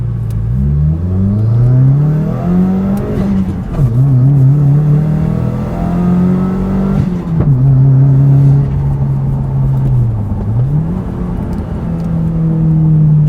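Subaru WRX on a track, its engine loud and close as it pulls hard through the gears, the revs climbing and then dropping at each shift, with no voices over it.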